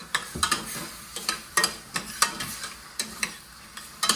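Ground meat for spaghetti sauce browns in a pan with a soft sizzle. A spoon scrapes and stirs it in regular short strokes, close up and with no talking.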